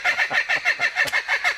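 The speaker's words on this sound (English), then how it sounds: "the birds laughing at me" Chickens cluck in a fast, steady rhythm of about eight pulses, loud and close, with no talk over them.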